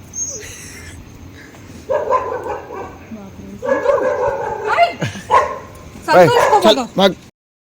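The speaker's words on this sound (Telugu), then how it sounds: "కుక్కలు నన్ను ఎక్కడ ఖర్చేస్తాయని" Several dogs bark and yip in short bursts, fairly close, with louder excited barking near the end over background noise, as an Uber arrives near the Taj Mahal, Agra.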